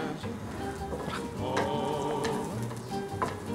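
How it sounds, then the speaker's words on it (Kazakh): Mushrooms sizzling as they fry in a pan, a steady close crackle with a few sharper pops and scrapes of stirring. "Саңырау құлақты жақсылап қуырып,"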